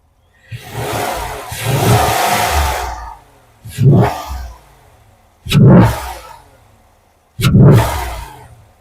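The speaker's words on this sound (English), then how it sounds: "I'll leave my microphone here and go ahead and give you guys some revs" Chevrolet 5.3 or 6.2 V8 truck engine with an S&B cold air intake being revved: four loud, close throttle blips with deep roaring intake sound, the first long and sustained, later ones short bursts separated by idle pauses.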